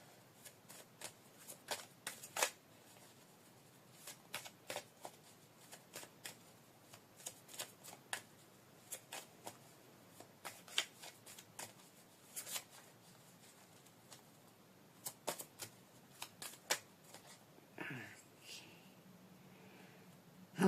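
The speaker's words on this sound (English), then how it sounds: "That's why I'm shuffling this much," A deck of cards is shuffled over and over in soft, crisp riffles and snaps, scattered across a quiet room, with a brief rustle near the end.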